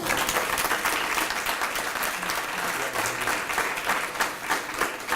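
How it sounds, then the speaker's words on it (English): Audience at an awards ceremony applauding, a full sustained burst of many hands clapping at even loudness throughout, with no speech over it. "Once more, a round of applause for all of our honorees tonight."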